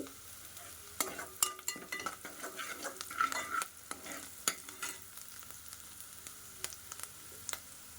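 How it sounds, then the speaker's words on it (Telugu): Small fish and onions fry steadily in a pan with a soft, continuous sizzle and crackle, broken by occasional scrapes and taps of a stirring utensil, with no voices. "సో చూడండి వేగుతుంది కదా, బాగా దూరగా వేగాలండి."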